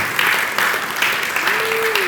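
Audience applause from a crowd at a music industry presentation, a steady dense wash of clapping running throughout, with a brief sustained tone rising near the end.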